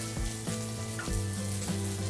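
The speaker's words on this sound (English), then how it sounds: "So now that's the sear I wanted to hear." Crab cakes sear in a hot frying pan, a steady close sizzle with soft crackling pops, no talking.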